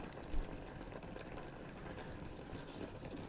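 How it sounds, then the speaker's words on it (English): Strawberries stewing in their own juices in a pot, a soft continuous bubbling simmer heard close up and steady throughout, with one brief louder bump near the start. "These strawberries are cooking themselves in their own liquid."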